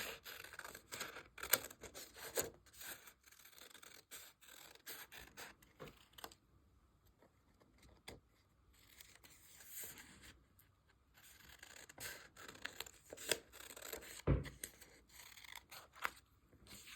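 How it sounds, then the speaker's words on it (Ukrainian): Scissors cutting paper along a drawn line for a children's greeting-card craft, heard as quiet, irregular snips and scraping rustles with brief pauses, close and soft. "Беремо ножиці і по намальованій лінії обрізаємо зайве."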